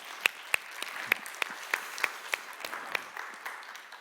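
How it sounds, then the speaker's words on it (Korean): A few scattered claps from a church youth worship congregation after a worship song, sparse distinct hand strikes spaced irregularly with a soft room wash, fairly quiet and alone. "솔지자매에게 격려의 박수를, 하나님께 영광의 박수를 하겠습니다"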